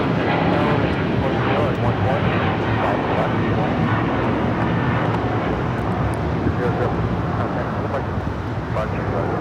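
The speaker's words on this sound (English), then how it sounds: "And that was Eva, Flight 5, heading back to Taipei in the 777-300ER" An EVA Air Boeing 777-300ER departs Los Angeles airport for Taipei, a continuous loud jet rumble that stays steady throughout, with a voice speaking over the engine noise.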